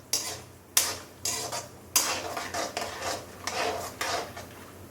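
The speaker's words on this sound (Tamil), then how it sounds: "இப்போ இந்த ஸ்டேஜில் நம்ம முந்திரி பருப்பை போட்டுக்கலாம். அது வறுபடட்டும், நல்லா வறுபடணும்" Cashews dry-roast in a pan for sugar-free dry fruit laddu, stirred in a rhythmic series of close scraping strokes, each a short rustling swish against the metal.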